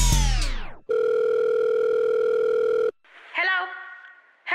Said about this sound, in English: Scotty, pick up the damn phone.